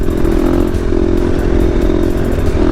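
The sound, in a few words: KTM dual-sport motorcycle doing a wheelie in sixth gear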